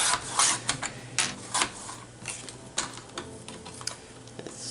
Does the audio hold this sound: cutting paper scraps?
yes